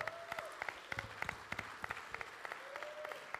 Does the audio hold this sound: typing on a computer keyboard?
no